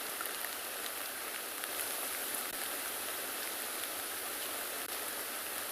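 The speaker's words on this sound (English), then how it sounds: "the rain's too much. It is coming down quite heavy. I'm sure you can all hear it." Heavy rain pours down steadily during a morning safari in a South African game reserve, a dense, unbroken hiss with no voices.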